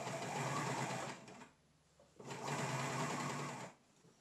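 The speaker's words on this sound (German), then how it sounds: "näht sie mit der Overlock oder einem anderen Stich," An overlock sewing machine stitches the hood seam of a knit pullover in two fast whirring bursts, close and clear, separated by a short quiet pause.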